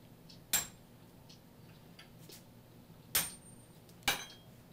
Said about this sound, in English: I think that's a 6-pound sledgehammer I'm using there. You can see it actually cuts pretty quickly.